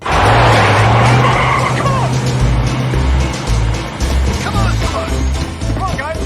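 In a film chase, a car flees police with tires skidding and squealing over a loud, continuous engine roar, while a voice speaks over the din.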